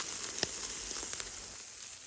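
Meat sizzling over an outdoor fire while camping, a faint continuous crackling hiss with small irregular pops, heard alone without talk.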